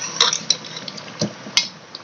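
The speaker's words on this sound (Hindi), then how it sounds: "ये नमक मैं इसमें ऐड करने लगा हूँ और इसको अच्छे तरीके से कर लेंगे मिक्स" A spoon stirs salt into beef nihari in a pot, giving several scattered metallic clinks and scrapes against the pot, fairly close and moderately loud, with no voices.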